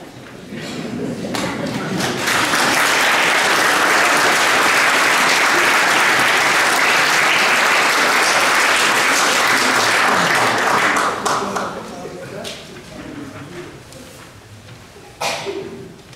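An audience claps at a church Advent concert given by a church and mixed choir in Magden, loud dense applause for about ten seconds before it thins to scattered claps.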